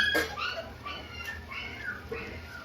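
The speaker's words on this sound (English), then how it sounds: "I got some rowdy dogs that I need to lock up and let out or whatever" Five-week-old puppies bark, yip and whimper close by in a rapid series of high, short cries, several overlapping within a few seconds.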